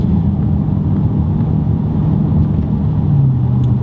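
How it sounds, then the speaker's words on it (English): Audi B8 RS5 with its 4.2L V8 and a 2.75-inch valved cat-back exhaust set to dynamic mode, idling in drive around 1800 RPM, gives a loud, steady, deep rumble with no breaks, recorded from inside the car. "if you switch over to dynamic, you can hear how much louder it gets"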